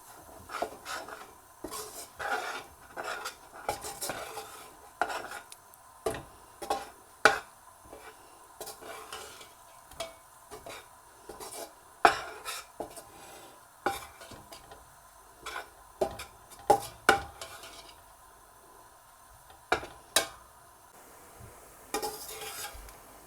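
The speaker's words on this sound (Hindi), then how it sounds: "अब हल्की आंच पे इसको आटे को भून लेंगे।" Wheat flour roasting in ghee in a pan on low heat for panjiri, stirred with repeated dry scraping strokes in an uneven rhythm, with a soft sizzle underneath and no voices.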